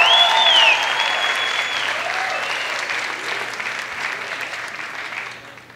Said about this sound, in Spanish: un aplauso para Mamochi